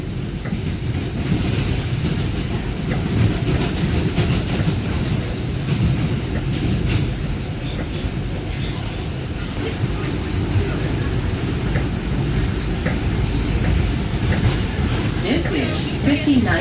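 A New York subway train runs with a continuous loud rumble and rattle, steady throughout with faint clicks of wheels on track.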